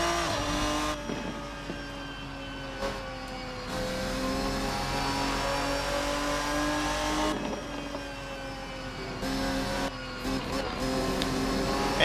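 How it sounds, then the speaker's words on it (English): A front-engine V12 race car in a racing video game, the Ferruccio 57 from the RSS GT mod, revs and climbs through the gears with a smooth, harmonic wail, easing and surging again across several shifts. "you can definitely hear that V12 engine starting to chime in for us"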